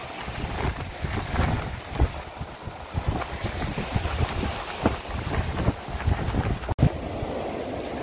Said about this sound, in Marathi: खूप वारा आहे खूप.